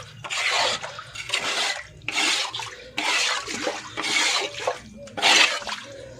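A water tank is rinsed out with splashing water in repeated loud bursts of gushing and spraying, with short pauses between.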